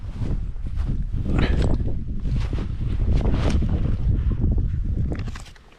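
Strong wind buffets the microphone outdoors during a remote military march, a steady, loud rushing roar with gusty swells that eases off at the end. No one speaks.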